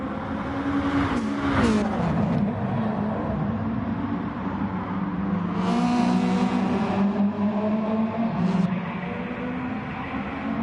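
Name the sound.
Subaru rally car engine in racing video game WRXC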